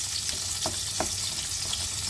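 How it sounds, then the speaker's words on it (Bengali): A metal spatula mashes soft tomatoes in a pan of tangy-spicy tomato chutney, giving two short soft squelching presses over a steady close sizzle of frying. "দেখো যেই টমেটোগুলো একটু রয়েছে এগুলো আমি এই খুন্তির সাহায্যে একটু স্ম্যাশ করে দিচ্ছি।"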